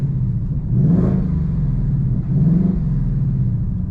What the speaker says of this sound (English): I love the V8 sound.